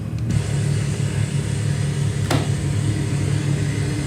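A Carenado 337 twin-engine aircraft in a flight simulator game, a steady droning engine that holds even as the throttle is eased back, with one brief click partway through and no voices.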